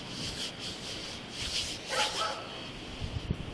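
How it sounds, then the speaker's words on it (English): A chained dog barks faintly from a distance, giving a few soft yips and barks over rustling outdoor background noise. "Is that dog chained up?"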